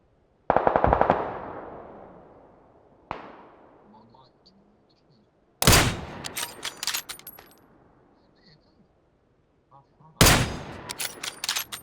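Gunfire in PUBG on the Miramar map: sharp shots and rapid automatic bursts arrive in three separate clusters with quiet gaps between, each loud at first and then trailing off into echoes.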